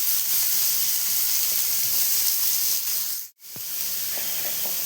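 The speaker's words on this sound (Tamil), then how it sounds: "அதுக்கு வடைச்சட்டியில் எண்ணெய் ஊற்றி எண்ணெய் காஞ்சோடனே அதில் ஃபைனாக சாப் பண்ண ஆனியன் போடணும்." Finely chopped onion hits hot oil in a wok-style pan at a roadside stall, giving a loud, steady frying hiss that briefly cuts out before resuming, with faint clinks beneath.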